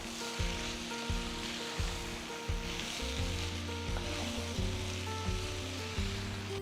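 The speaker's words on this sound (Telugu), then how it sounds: "మటన్ని కనీసం 5 నిమిషాలు వేయించాలి" Mutton frying with coriander powder in a pan, a dense steady sizzle throughout with faint hums and low thumps recurring underneath.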